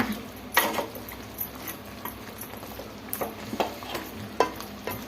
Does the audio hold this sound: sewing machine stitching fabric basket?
no